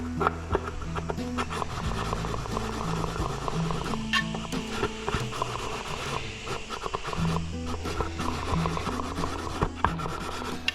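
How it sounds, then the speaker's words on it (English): Repetitive scraping and rasping of a hand file deburring a metal motorcycle input shaft, steady back-and-forth strokes with a low mechanical hum underneath. "this will take off the burrs or any high spots that the friction disc will have on the input shaft"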